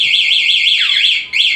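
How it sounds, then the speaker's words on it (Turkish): A Honda PCX 150 scooter's aftermarket alarm beeps in a loud, warbling electronic siren that sweeps up and down rapidly, briefly dipping and cutting out before resuming, heard alone and close. "Bastığımız zaman böyle ötme yapıyor."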